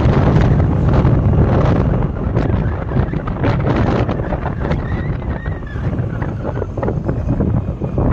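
Strong wind buffets the microphone steadily in hilly country near a Hyderabad Kali temple, a loud rushing roar outdoors with gusty surges and no one speaking.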